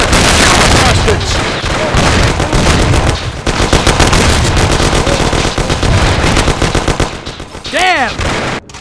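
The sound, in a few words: gunfire in the video game Mafia: The City of Lost Heaven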